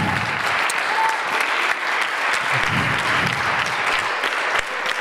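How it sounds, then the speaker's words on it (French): Dense, steady audience applause fills the hall after a round table discussion on social integration at Les Grands Voisins, sustained and even throughout with no speech on top. "Moi, je vous propose de les applaudir tous."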